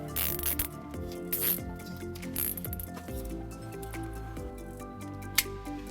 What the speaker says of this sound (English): Now we'll take all of our extra slack and we'll go ahead and secure it using some zip ties.